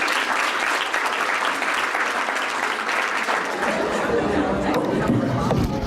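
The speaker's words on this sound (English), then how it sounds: "Please join me in one more round of applause." An audience applauds at the close of a talk at a university event, with a steady wash of clapping mixed with crowd chatter that thins slightly toward the end.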